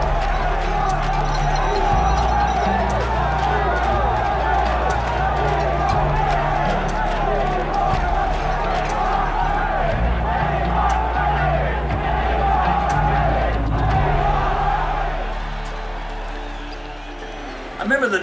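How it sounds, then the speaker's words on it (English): A rugby crowd at Rugby Park in Waikato refusing to leave the grandstand, a loud massed chant rising and falling steadily throughout, with the roar thinning toward the end. "The crowd refusing to go, chanting, "We want rugby.""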